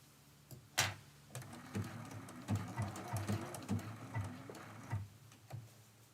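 A sewing machine stitches a blanket stitch along appliqué leaves and stems on a quilt, giving quiet rhythmic ticking bursts and short mechanical runs with brief pauses between them.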